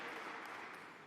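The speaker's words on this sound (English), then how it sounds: "give them a huge round of applause" An audience at a business leaders' gathering supporting Atlanta police applauds, a dense, even wash of clapping at moderate distance, heard briefly with no voices over it.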